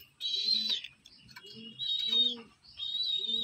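A pair of Kalshira pigeons, one recovering from a twisted-neck illness, coo in three separate drawn-out phrases, each about a second long, close and fairly quiet against a silent background.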